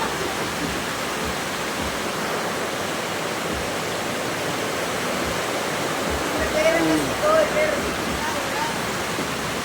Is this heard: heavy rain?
yes